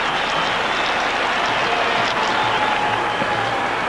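A stadium crowd at a New York Cosmos versus Los Angeles Aztecs soccer match, a steady broad roar of cheering and murmuring that fills the whole stretch, with faint commentary beneath.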